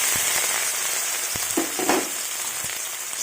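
Dried small prawns crackle in hot oil in a wok, a steady bright sizzle throughout with a few soft stirring scrapes and pops, close and fairly loud, no voices.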